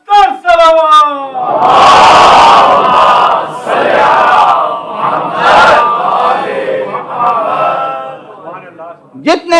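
Large religious gathering chanting salawat loudly in unison in answer to a preacher's call during a Rabi ul Awal majlis: a sustained roaring crowd response filling most of the span, with a voice calling briefly at the start and end.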